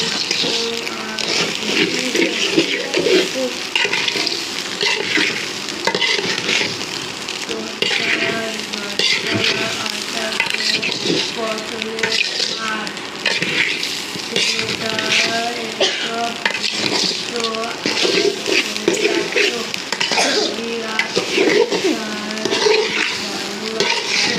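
Steady, loud sizzling of rice frying for bhuna khichuri in a pot, with scraping and clinking of a spoon stirring throughout, continuous and close.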